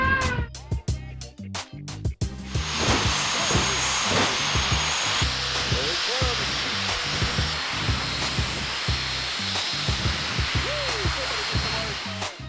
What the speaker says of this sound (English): The engine is a General Electric J85, powering the North American T38 and the M5.